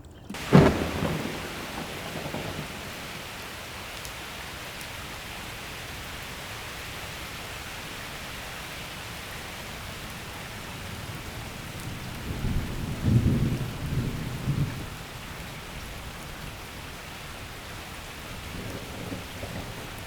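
A thunderstorm with rain pours steadily over a heron habitat during Memorial Day weekend, with a broad rushing hiss throughout, an early thunder crack and a low rolling rumble building toward the middle before easing.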